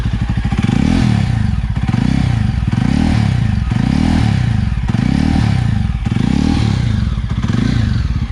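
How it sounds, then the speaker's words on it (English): A Jawa 42 motorcycle with a Red Rooster aftermarket exhaust revs loudly again and again in a steady, regular rhythm, each throaty surge rising and falling close by. "Now let's see how the exhaust sound is."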